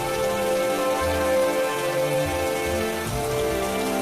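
Heavy cartoon rain pours down steadily in a forest, a dense continuous hiss with a low rumbling undertone and no voices.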